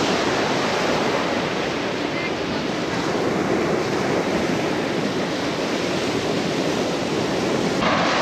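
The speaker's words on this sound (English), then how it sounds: "it's just so nice to be by the ocean for a change" Ocean waves roll onto the beach at Fort Kochi in Kerala, a continuous loud surf roar mixed with gusty wind buffeting the microphone.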